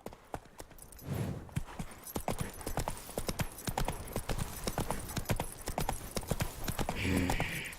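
Horse hooves clip-clop in a brisk, even rhythm close by, with a brief voice near the start and a short breathy snort near the end.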